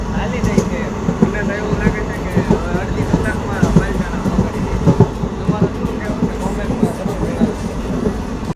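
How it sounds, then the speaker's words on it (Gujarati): Train to Palitana running at speed, heard from inside a carriage as a steady rhythmic clickety-clack of wheels over rail joints with rumbling and rattling, and a voice talking now and then above it. "ટ્રેને હવે સ્પીડ પકડી લીધી છે"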